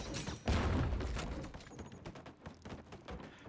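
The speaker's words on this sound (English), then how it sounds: "we're going to shoot this barricade" A barricade being shot in the video game Baldur's Gate 3: one loud heavy impact burst, followed by a rumbling, crackling tail with scattered thuds.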